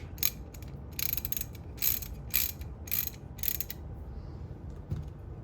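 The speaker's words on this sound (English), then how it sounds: "I'm gonna tighten this with the wrench." A wrench turns Allen screws during the restoration of a 47, making short ratcheting clicks in a quick, even series of about six bursts, close and fairly quiet, with no talking.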